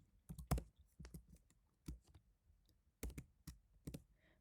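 Keystrokes on a computer keyboard while Python code is entered, irregular bursts of clicks and taps with short pauses between groups, close and fairly quiet, no talking.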